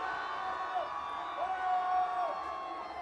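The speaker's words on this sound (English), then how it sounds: "As you can hear, the crowd doing its best to try to distract the Doherty kicker." Crowd at a high school varsity football game yells and whoops steadily to rattle the opposing kicker before an extra-point attempt, a continuous roar with shrill rising calls over it.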